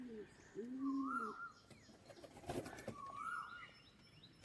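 Pigeons in a loft give soft, rising and falling coos, several calls spaced across the stretch, close but fairly quiet, with a few light rustles and a sharp knock at the end.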